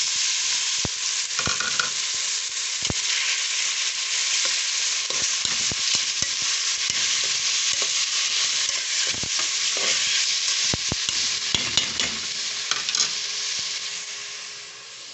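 Tomatoes sautéing in a pan for a simple squash stir-fry, a loud continuous sizzle and hiss lasting throughout, close up, broken by occasional scraping stirs of a utensil.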